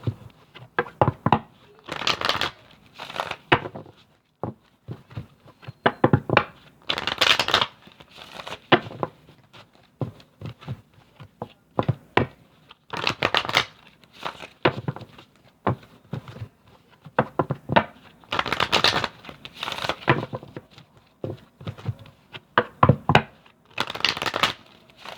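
Tarot cards shuffled by hand in repeated riffling bursts, crisp close papery flutters separated by short pauses, with no talking over them.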